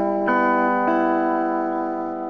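Electric guitar with an SH-4 humbucker bridge pickup, played through a Fender amp, strikes two sustained chords that ring out and decay slowly, alone and fairly loud.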